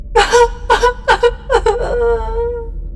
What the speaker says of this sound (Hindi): मुझे किसी लड़की के रोने की आवाज़ आई